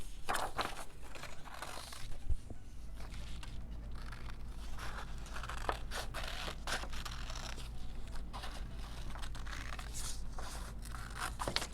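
Scissors cut out paper circles up close, with repeated crisp snips and papery crinkles in an uneven rhythm over a low background hum, no talking.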